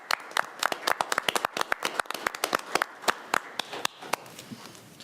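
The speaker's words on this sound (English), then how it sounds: "Let's give them a round of applause" An audience claps together at a live stream event, brisk uneven hand claps close by and fairly loud, thinning out toward the end.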